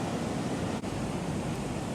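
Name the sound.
storm surge waves at Mondello beach, Palermo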